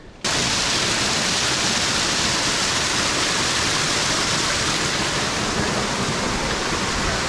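Continuous loud rush of clean flowing water past big rocks in a forest at Bheemeshwara, Karnataka, like a nearby waterfall or fast stream, steady and unbroken throughout.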